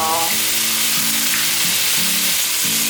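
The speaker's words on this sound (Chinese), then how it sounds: "红喜菇放进来，大约炒了1分钟左右" Red shimeji mushrooms stir-fry in a hot pan for a vegan home-style dish, giving a loud, steady, close sizzle throughout with soft tones underneath and no talking.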